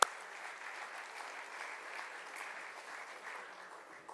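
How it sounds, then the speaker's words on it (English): Applause from a gathered audience honoring the Krishna family, a soft, distant, even wash of clapping that sustains for about four seconds. "A big round of applause for the Krishna family."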